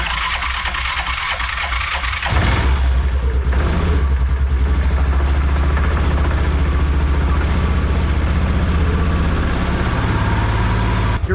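A Yamaha Rhino 660 UTV with a blown head gasket sputters briefly, then catches and roars into a loud, rough, steady engine run with revving, close by and without speech.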